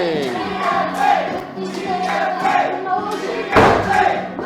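Crowd at an independent wrestling show reacts loudly with cheers and shouts, swelling in waves with a sharp burst near the end, while voices carry over the noise.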